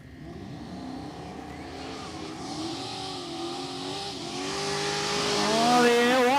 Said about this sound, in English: The Elko getting all sorts of sideways in the burnout box